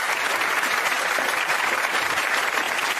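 Studio audience on a daytime television talk show applauding: dense, steady clapping throughout, loud and close, with no pauses.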